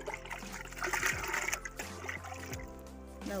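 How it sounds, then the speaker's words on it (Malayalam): Rice water fertilizer poured at the base of chilli plants, a soft trickling and splashing of liquid, close and fairly quiet, over a low background hum. "ഇനി നമുക്ക് ഈ വളം നമ്മുടെ ഓരോ പച്ചമുളക് തൈയുടെ ചുവട്ടിലും നമുക്ക് ഒഴിച്ചു കൊടുക്കാം"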